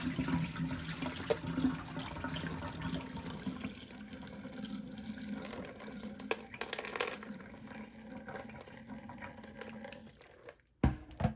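Dirty rinse water is poured off a batch of black-eyed peas soaking in a pot, a steady splashing pour running for several seconds, fading near the end before a brief clatter.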